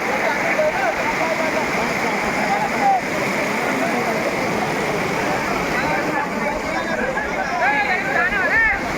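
Floodwater from the Kolambi river after heavy rain rushes beside a submerged road bridge and spills into nearby fields. It makes a loud, continuous roar, and voices can be heard over it.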